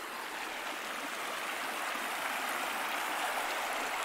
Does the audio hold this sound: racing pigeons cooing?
no